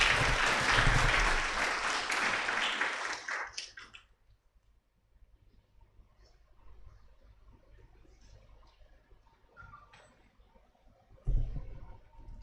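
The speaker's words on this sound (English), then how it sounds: "perhaps we can give the Honorable the Chief Justice another round of applause" Audience applause at a bar-bench legal forum, loud and dense for about four seconds, then dying away to scattered faint noise, with a short burst of clapping returning near the end.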